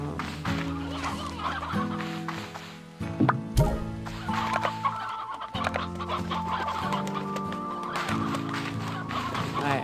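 Chickens in the video game Slime Rancher 2 cluck repeatedly in a steady, busy stream with game music underneath, broken by a sudden splashy pop partway through.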